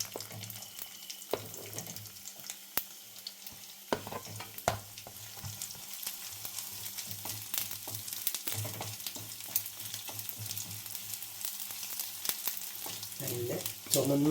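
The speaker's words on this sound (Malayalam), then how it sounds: "ഇനി നമുക്ക് ഈ കൊത്തി വെച്ചിരിക്കുന്ന തേങ്ങാക്കൊത്തൊന്ന് വറുത്തെടുക്കാം" Chopped coconut pieces fry in hot oil with a continuous soft sizzle, broken by sharp clicks and scraping stirs, growing a little louder toward the end.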